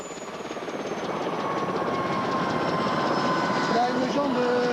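Helicopter rotor and engine noise during an adventure race rescue in the 1990 Raid Gauloises, a steady loud broadband roar with pulsing chop that builds slightly, with faint tonal whines near the end.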